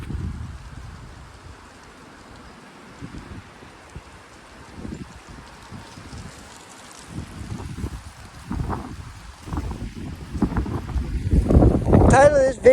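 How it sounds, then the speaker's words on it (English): Wind gusts buffet the microphone outdoors on a windy afternoon, building from a low rumble to loud blustery bursts toward the end, with some talking mixed in. "it is windy out here"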